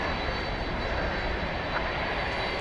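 Engines of an American Airlines Airbus A321 jetliner at DFW Airport, heard as a steady, broad roar that holds even and unbroken throughout, moderately distant with no voices over it.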